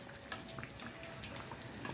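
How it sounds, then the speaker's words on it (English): Bread pakora deep frying in hot oil, a steady broadband sizzle and crackle that runs unbroken and close throughout, with no voices. "Place it in the oil and deep fry it for some time."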